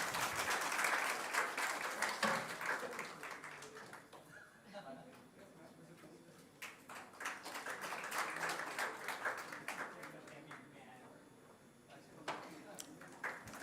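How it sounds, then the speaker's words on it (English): An audience applauds at an international conference: waves of clapping swell, ease off and rise again over about fourteen seconds, with some murmured voices. "And with a huge round of applause, ladies and gentlemen."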